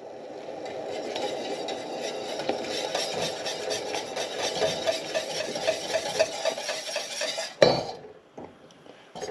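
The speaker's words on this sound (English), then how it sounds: "and we stir." A spoon stirs a simmering coconut pudding mixture, haupia, in a pot, making continuous scraping and clinking against the metal with a sharp knock near the end.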